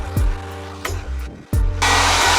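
A heat gun blows on a drywall patch with a loud steady whooshing drone, cut off and restarted twice in quick succession, close up and with no speech.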